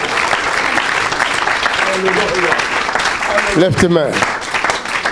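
A church congregation applauds in a loud, continuous wash of clapping that fills the room, while a voice speaks over it.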